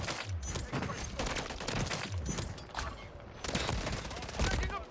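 Rapid automatic gunfire in the video game Modern Warfare 3, dense bursts of shots running continuously at close range with a player talking over it.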